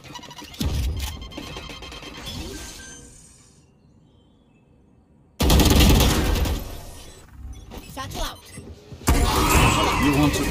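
Dense bursts of rapid gunfire and explosive blasts from a Valorant match, loud and close, with a quiet lull in the middle before the shooting returns in two heavy stretches.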